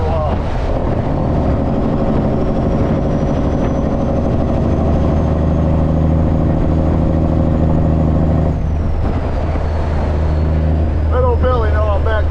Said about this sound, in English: Get you some last second jake brake action.